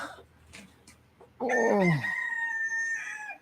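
A rooster crows once, loud and close, its long ringing call rising then trailing off over faint background noise.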